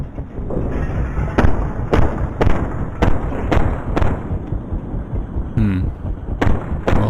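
Repeated heavy blasts from rocket launcher fire in the war game Ravenfield, about eight sharp booming hits spaced unevenly over a dense rumbling battle din, loud and close with no talk.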